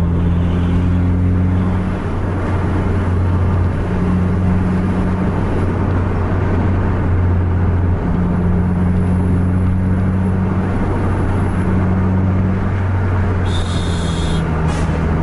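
A car engine accelerates hard at full throttle along a winding road, with a loud, steady drone that rises and falls in pitch as it revs through the gears.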